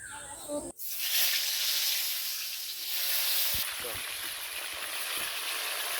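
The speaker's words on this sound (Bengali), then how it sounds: "এবার পটলগুলো ভেজে নেব" Pointed gourd (potol) slices go into hot oil and set off a sudden, loud hissing sizzle that holds steady and close, with a few faint clinks and stirring touches along the way.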